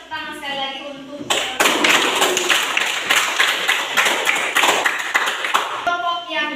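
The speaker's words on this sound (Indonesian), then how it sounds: "tepuk tangan sekali lagi untuk" A group breaks into dense, lively hand clapping after a classroom presentation, loud and close for several seconds, bracketed by a voice speaking just before and after.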